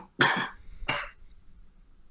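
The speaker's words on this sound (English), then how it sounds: "I need to cough." A person coughs twice, close and loud, a harsh burst followed by a shorter second cough about half a second later, then quiet.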